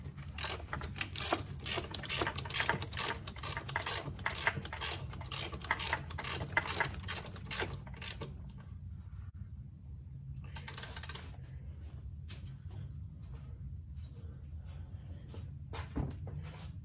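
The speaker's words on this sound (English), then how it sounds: "now we're going to go in and remove the through bolt" Socket wrench working loose the driver-side control arm through bolt on a 2003–2008 Toyota Corolla with automatic transmission, heard as a run of quick, close ratcheting clicks that stops halfway, followed by quieter handling noises and a short final burst of clicks.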